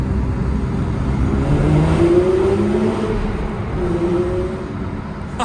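A Porsche 911 ST engine rises steadily in pitch as it accelerates, a loud continuous roar with a second surge partway through, no talking.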